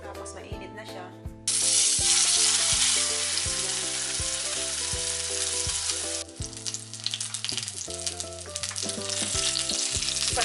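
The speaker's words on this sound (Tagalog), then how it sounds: "So lulutuin na natin tong salmon natin. Maglagay lang tayo ng konting olive oil." Salmon sizzles in a pan of hot olive oil, a loud steady frying hiss that starts abruptly and carries on under soft background music.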